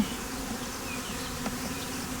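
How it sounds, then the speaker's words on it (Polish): Buckfast honey bees buzzing around an open hive with honey supers, a steady close drone with individual bees passing by, no talking. "Te pszczółki, które tutaj widzimy, są bukwasty B615 i to są bardzo fajne pszczoły."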